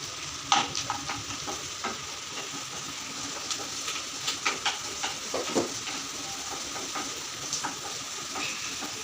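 Onions frying in a pan for an egg dish with coriander and grated ginger, a steady close sizzle broken by scattered clinks and scrapes of stirring, with no talking.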